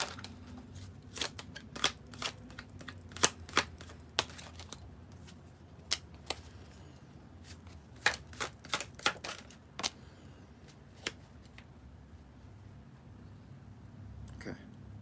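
Tarot cards shuffled during a live reading, a run of crisp, irregular riffling snaps and taps close by over a low background hum, with no talking.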